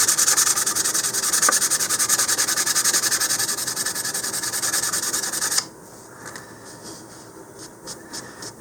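Sandpaper rubbing back and forth over putty on a model rocket body, a steady close scratchy rasp for several seconds that then drops to quieter, lighter strokes.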